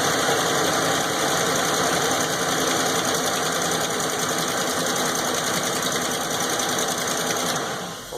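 Ford F-150 engine running with a broken flex plate, a steady rapid mechanical clatter and whir with a constant even rhythm, close and loud, fading slightly at the very end.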